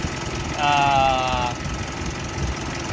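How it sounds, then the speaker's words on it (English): Mitsubishi Outlander engine idling during an air-conditioning gas refill, with a brief rising whine near one second as the compressor kicks in over a low, steady rumble. "we can already hear the compressor"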